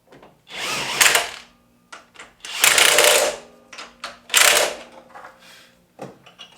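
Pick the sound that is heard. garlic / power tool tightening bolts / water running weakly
power tool tightening bolts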